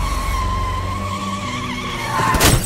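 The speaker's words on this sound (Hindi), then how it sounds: "और ड्राइवर उससे बचने के लिए इमरजेंसी ब्रेक लगाता है" Car tyres screech and skid under hard emergency braking in a Hindi horror cartoon, a sustained squeal over engine rumble that swells into a louder burst near the end.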